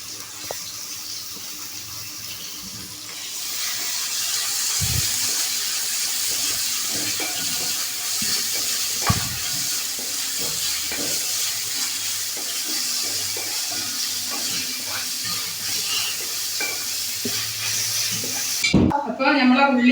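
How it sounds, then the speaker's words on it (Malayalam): Chopped onions frying in a pan for Kerala-style chicken peratt, a steady broad sizzle with occasional clinks and stirring knocks, close and continuous throughout, ending with a brief louder clatter. "അപ്പോൾ നമുക്ക് വലിയുള്ളി ഒന്ന് നല്ലപോലെ മുരിച്ചെടുക്കണം."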